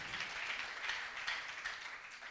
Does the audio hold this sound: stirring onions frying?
no